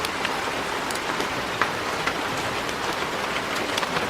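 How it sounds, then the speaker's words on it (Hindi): Heavy rain pours over a farm field in a dense, steady hiss of countless drops, continuous and loud throughout with no voices. "माँ भारी बारिश में भीगते हुए खेत में काम करती रहती है"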